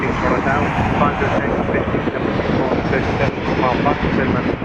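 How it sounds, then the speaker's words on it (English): An Etihad Dreamliner passes at Toronto Pearson airport, its jet engines producing a loud, steady broadband roar with wind buffeting throughout, while a person talks over it. "we got an Etihad Dreamliner and a Turkish cargo."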